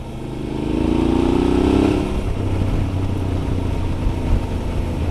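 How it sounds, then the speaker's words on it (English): A Suzuki V-Strom 650XT motorcycle with a new Delkevic muffler, riding in spring woods in the Missouri Ozarks: a rising rev, then a steady, throaty engine rumble nearby. "You hear my new Delcovic muffler on this V-Strom. I kind of like it. It sounds pretty good in the woods."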